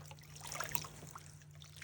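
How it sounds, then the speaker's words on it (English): Dirty water trickles and drips from hand-wrung scoured wool onto a drain board, with faint, irregular splashes and dribbles over a low background hum. "I'm going to collect the wool, wring it out with my hands to get out as much dirty water as I can."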